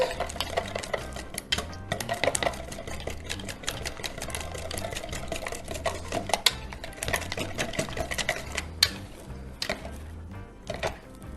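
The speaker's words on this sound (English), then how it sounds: "I'm just gonna whisk it together" A mixture for banana sourdough bread pudding gets whisked in a bowl, giving a busy run of rapid clinking, scraping taps against the bowl, fairly close and steady for about eleven seconds with no talking.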